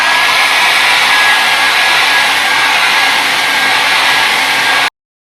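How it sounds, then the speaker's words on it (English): Hair dryer blowing steadily on a wig, a loud, close, continuous airy whoosh that holds for about five seconds and then cuts off abruptly. "Then I'm gonna take my hair dryer"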